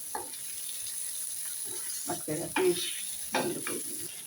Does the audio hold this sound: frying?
yes